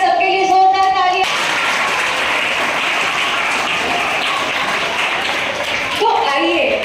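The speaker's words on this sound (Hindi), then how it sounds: "एक बार सबके लिए जोरदार तालियां।" Audience at a Shravan Monday Rudra Abhishek gathering in a school breaks into loud applause, a dense burst of clapping lasting about five seconds, with a voice speaking just before and after.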